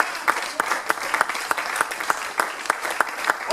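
A church congregation at a pastor's ordination service claps in a lively, fairly rhythmic burst of applause, close and continuous for a few seconds.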